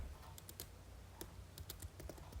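Keys tapped on a computer keyboard while entering a command in RStudio, a few quick clicks in small bursts over a low hum, close and fairly quiet.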